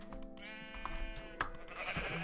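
Blocky game sheep in Minecraft Windows 10 Edition Beta bleat several times in quick succession, fairly close and clear over a steady background hum, with no one talking.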